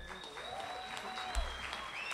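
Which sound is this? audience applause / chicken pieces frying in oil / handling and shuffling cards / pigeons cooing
audience applause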